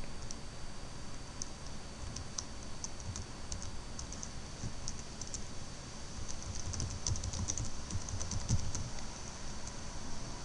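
Quiet, rapid typing on a computer keyboard, a steady patter of light clicks with small bursts, heard close and alone.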